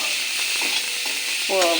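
An onion-spice filling with turmeric is stir-fried in a hot pan for a tengra fish and brinjal dish, giving a steady close sizzle with soft scraping stirs and a brighter burst of frying near the end.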